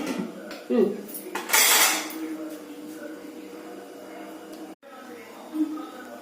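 A lid is set onto a pot of simmering fish curry, clanking sharply against the metal amid other pot and utensil clinks, with a voice talking over the kitchen sounds.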